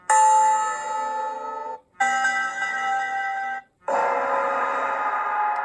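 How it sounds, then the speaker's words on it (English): A short game sound effect from the horror game Dead by Daylight plays as a ringtone: three separate ringing, bell-like tonal bursts with sustained harmonics and brief gaps between them, clear and alone. "So that's basically the dead sound effect."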